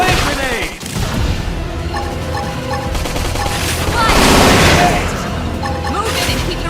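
A flame grenade explosion in the video game Xenoblade Chronicles X, a dense, loud rumbling blast swelling amid continuous battle noise and game sound effects.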